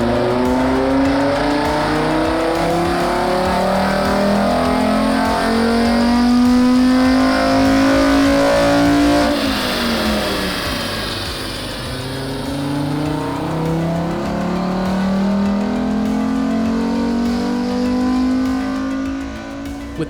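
Volvo 850 Estate fitted with custom individual throttle bodies and headers, revving hard at wide open throttle, a loud rising howl that climbs, dips sharply around midway, then builds and holds again.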